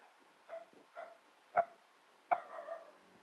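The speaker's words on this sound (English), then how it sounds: "My dog is barking, barking, barking, barking." A dog at home gives several separate barks and yips, moderately near and spaced about a second apart, some short and sharp, others trailing off, against a quiet room with no one speaking.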